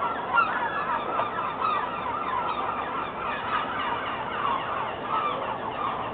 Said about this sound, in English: And there's the Seagull Orchestra.